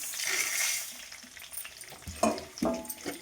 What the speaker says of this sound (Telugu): పచ్చిమిర్చి, ఎండుమిర్చి కూడా రెండు వేస్తాను అనమాట నేను.